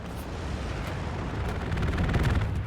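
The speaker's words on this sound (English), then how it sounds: "Strafing run?" A strafing run in the World War II shooter Hell Let Loose, a dense rumbling roar of rapid gunfire and impacts that swells slightly louder toward the end, with no voices over it.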